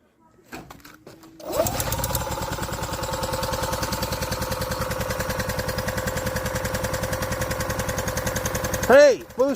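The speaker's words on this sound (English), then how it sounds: "Generator ignition." A small gasoline generator on a homemade long-range vehicle cranks and catches, then runs with a steady, rapid, buzzing mechanical chug at close range for several seconds before faltering near the end.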